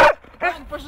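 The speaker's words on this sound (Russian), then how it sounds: "Это ирландские терьеры, настоящие земляные собаки." Irish terriers out in a park in Tyumen, one giving a sharp close bark followed by a couple of softer, shorter yelps within a second.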